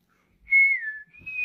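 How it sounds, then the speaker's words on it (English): A person whistles a single clear tone that glides slightly downward, breaks briefly, then resumes on a steady higher note, close and alone in near silence. "he doesn't like it when we whistle"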